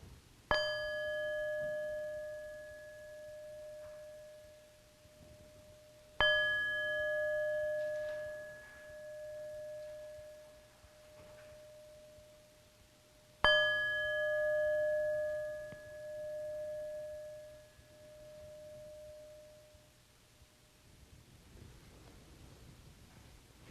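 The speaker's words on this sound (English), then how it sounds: "allow your spirit to absorb the sounds of the bell as we prepare ourselves for worship this morning" A bell struck three times to open a Sunday morning worship service, each stroke ringing out clear and sustained before slowly fading, the strikes spaced several seconds apart, with no voices.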